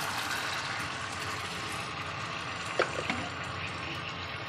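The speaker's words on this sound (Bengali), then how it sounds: "এখন আমি অল্প পরিমাণে জল ঢেলে দিলাম।" A little water is poured into a pan of yogurt-based masala for masoor dal dhoka curry, giving a steady, close hissing splash with no talk.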